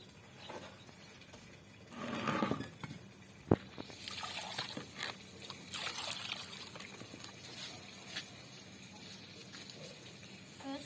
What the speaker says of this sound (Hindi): पहले इसको हम पानी डाल देते हैं